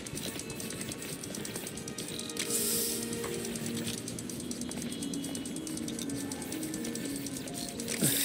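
A small mechanical spider bot from the Marvel's Spider-Man game scuttles along with steady ratcheting, gear-like clicks and light tapping steps over a busy city background, moderately loud and continuous with no talking.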